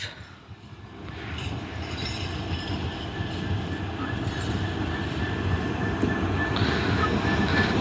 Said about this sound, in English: there's plenty of freight trains coming in now